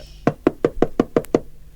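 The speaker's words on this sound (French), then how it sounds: "À ce moment-là, on frappa à la porte." Seven knocks on a door, loud and close and evenly spaced, with nothing else around them, in a French children's story recording.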